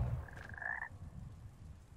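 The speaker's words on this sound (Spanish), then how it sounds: "Me ha tragado un sapo y me ha escupido en otra parte." Toad croaking in the video game Hogwarts Legacy: a single faint, drawn-out croak with a rising warble, set against a low ambient rumble.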